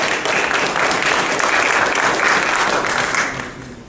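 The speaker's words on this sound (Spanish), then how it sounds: "recibámoslo con fuertes y calurosos aplausos" An audience at a lecture on occupational health and safety management claps warmly to welcome the speaker, a dense, sustained round of applause that fills the room, then tapers slightly at the end.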